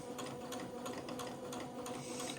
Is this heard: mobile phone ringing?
no